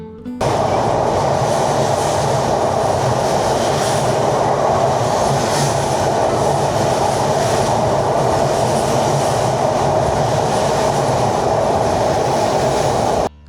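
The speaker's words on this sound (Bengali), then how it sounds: "এই ট্রেনের যে এত পরিমাণে স্পিড আমি আপনাদেরকে একটু সাউন্ড শুনাইতেছি" A high-speed train roars steadily past on the Padma Bridge, with dense rumbling and rattling wheels on the track, loud and sustained throughout with no voices.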